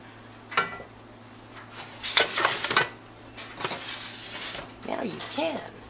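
A metal roasting pan and rack being handled while a chicken is prepared for convection roasting, with a few short clanks and scrapes close by, partly mixed with a voice.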